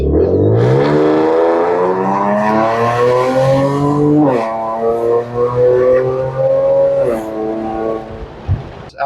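A supercharged Audi S4 with a broken supercharger bypass valve accelerates hard, its loud engine note climbing steadily through two upshifts, close and alone with no talk.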